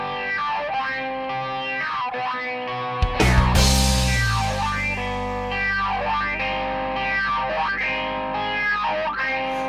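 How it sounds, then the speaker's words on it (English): An electric guitar passes through a strong phaser, sustained chords sweeping up and down in slow repeating whooshes. Midway, a loud distorted strum hits and rings out, with the swirling modulation continuing alone afterward. "It's pretty strong phaser sound to it."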